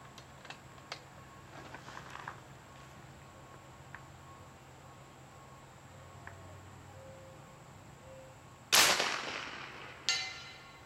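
Big bore air gun fired during a timed shooting event, a single sharp loud crack near the end after quiet ticking background, followed by a fainter second impact or echo about a second later.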